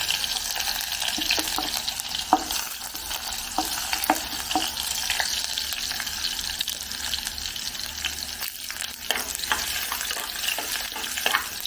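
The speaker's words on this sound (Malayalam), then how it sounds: "കടുക് പൊട്ടി തീരാറായി ഇനി നമുക്ക് ചുമന്നുള്ളി ഇതിലേക്കിടാം അരിഞ്ഞു വെച്ചിരിക്കുന്ന" Chopped shallots frying in hot oil in a pan after mustard seeds have popped, for a Kottayam-style fish curry; a steady close sizzle with repeated stirring scrapes and small crackles, no voices.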